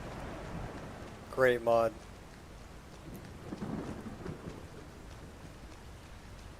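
A modded thunderstorm in the game Skyrim, with steady rain hissing and a low rolling thunder rumble building midway, while someone speaks briefly over it.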